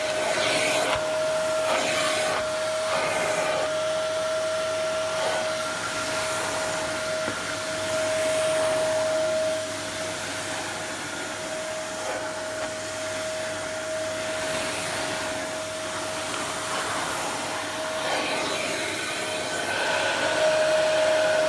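A Hoover Dustmanager Sensory 2300-watt cyclonic cylinder vacuum cleaner runs continuously with a steady airy roar and a high, constant whine, the motor noise uninterrupted and close, with no voices.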